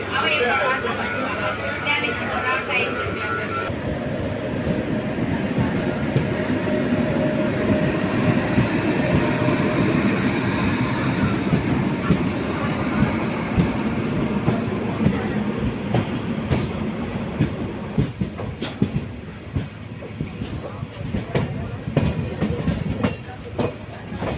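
The Nellai Superfast Express passenger train rolls along from Tirunelveli toward Chennai Egmore with a steady rumble and rhythmic clickety-clack, voices chattering nearby in the carriage throughout.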